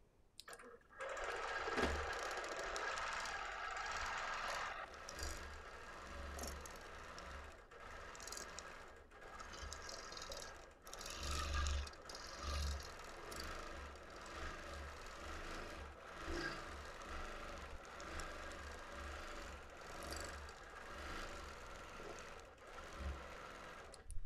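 A sewing machine stitches free motion quilting at 10 stitches per inch on a Lori Holt sampler quilt. The motor hums steadily and close with a rapid needle chatter that runs without pause and without talk.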